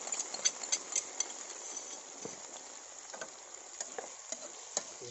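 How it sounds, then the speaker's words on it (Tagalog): Liver for adobo fries in a pan, a soft, faint sizzle with scattered little pops and ticks spread irregularly throughout. "Lulutuin na natin itong atay guys."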